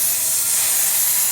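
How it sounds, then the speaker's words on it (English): Black spray paint hisses steadily from an aerosol can being sprayed onto Halloween potion bottles and book covers, a continuous close airy spray with no talking. "Once it's dry, spray paint with black spray paint."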